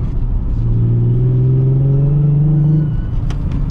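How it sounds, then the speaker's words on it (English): A Nissan 350Z revs hard as its wheels spin for grip on a steep canyon road, a loud close engine drone rising and holding steady for about two seconds before easing off, with no talking. "Yeah, this is too much power. We're just spinning."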